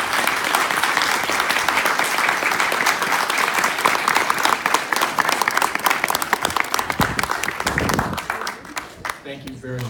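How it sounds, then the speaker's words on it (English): Applause from an audience at a middle school community open house, sustained clapping from many hands that thins into scattered claps toward the end, with some voices mixed in. "let us acknowledge you by giving you a round of applause"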